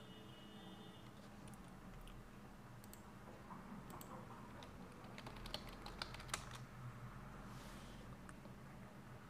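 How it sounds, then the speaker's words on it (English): Typing on a computer keyboard: a short run of soft, quick key clicks at low level over a constant machine hum, with a few sharper taps near the middle. "here we will type localhost"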